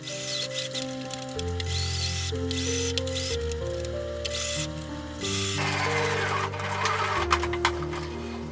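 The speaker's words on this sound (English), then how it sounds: "Sew on the edge with top stitching until it's finished." A sewing machine top-stitches along the edge of a fabric face mask, its steady mechanical hum running continuously under a layer of background music with no talking.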